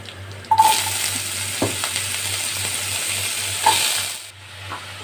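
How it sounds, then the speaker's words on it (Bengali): Sliced bottle gourd hits hot oil in a wok seasoned with whole spices and a dried red chilli, giving a steady, close sizzle with a few scraping stirs and clinks. "লাউগুলো আমি কড়াইয়ের মধ্যে দিয়ে দিয়েছি"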